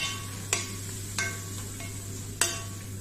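Onions, tomatoes and green chillies sauté in a pan for a crab roast, with a soft steady sizzle under a low hum, broken by three sharp clinks of a spoon stirring against the pan.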